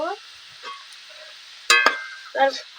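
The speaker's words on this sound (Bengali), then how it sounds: "আমি নেড়ে নেব এবার তুলে নেব" Nimki, a fried savoury snack, stirred in hot oil, with a low sizzle and two or three short metallic scrapes of the spoon against the pan.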